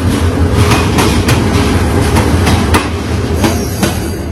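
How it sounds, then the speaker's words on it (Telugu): A Bangladesh Railway train runs steadily and loud throughout, with continuous wheel rumble, rhythmic clickety-clack joints and occasional squealing of wheels. "చూడండి బంగ్లాదేశ్ ట్రైన్."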